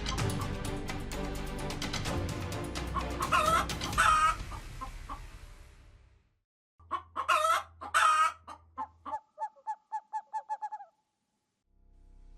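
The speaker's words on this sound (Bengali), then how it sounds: "এই নাও বাজার থেকে মুরগিগুলো এনেছি" Chickens brought home from the market cluck and squawk loudly in close bursts, go quiet briefly, then let out a quick run of sharp, rapid clucks that tapers off.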